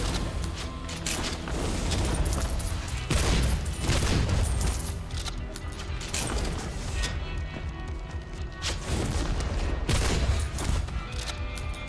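Repeated shotgun blasts in the shooter game Soulslinger, heavy booming shots fired in quick succession among dense layered combat effects and music, loud and continuous.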